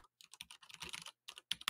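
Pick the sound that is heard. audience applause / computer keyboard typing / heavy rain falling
computer keyboard typing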